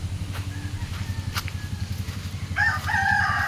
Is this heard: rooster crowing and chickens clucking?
yes